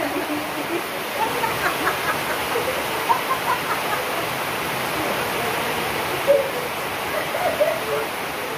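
Rain falls steadily outdoors beside a small snack stall, a dense, even hiss with occasional faint louder spatters throughout.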